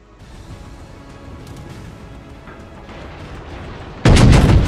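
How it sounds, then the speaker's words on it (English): Battleship artillery in the naval combat game World of Warships, facing a North Carolina: a low rumbling build-up, then a sudden loud, close broadband gun salvo booming out over the final second. "Take some more shots against the North Carolina."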